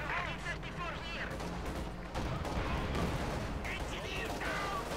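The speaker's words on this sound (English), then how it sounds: "Panzerschreck's firing." Panzerschreck rocket fire in the Company of Heroes 2 strategy game, with dense battle noise of blasts and gunfire under a continuous caster voice.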